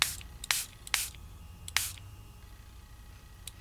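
Water spritzed from a spray bottle onto Distress stain on paper: four short, crisp hissing bursts close by, the first three in quick succession and a last one after a pause, with quiet in between.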